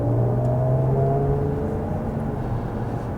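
A Jaguar F-Type supercharged sports car engine holds a loud, close, smooth rising whine and rumble, a continuous engine note with clear tonal harmonics that drift slightly in pitch, with no talk.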